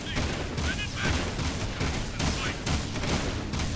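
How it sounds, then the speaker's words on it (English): Rapid bursts of gunfire as enemies are shot in the Jak 2 video game, dense crackling volleys in an uneven rhythm, loud and close, with game sounds layered underneath. "Now we have to shoot all of these enemies."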